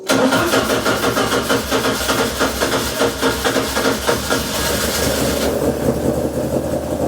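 A Ford Escort Mk1 fitted with an ST170 engine with variable valve timing cranks and fires, then runs with a loud, steady pulsing engine note close by, easing into a smoother idle near the end.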